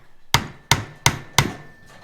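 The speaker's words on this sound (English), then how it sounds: "Use a hammer." A hammer strikes a small metal clip on a broken weed eater, four sharp, evenly spaced blows, close and loud, with no talking.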